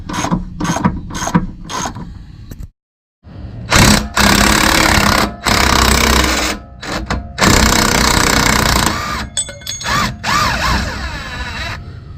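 Pneumatic impact wrench rattling in loud, repeated bursts while loosening the lower control arm bolts on a 2005-2014 S197 Ford Mustang, with short pauses between hammering runs and no talking.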